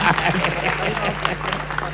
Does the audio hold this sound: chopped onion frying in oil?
no